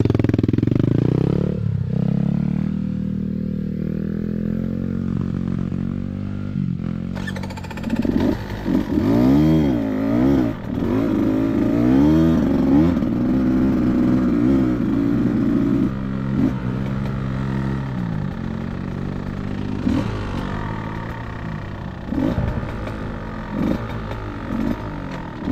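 A Beta 200RR or Kawasaki KLX dirt bike engine revs hard on a trail hill climb, rising and falling in pitch as the throttle opens and closes, loud and close throughout.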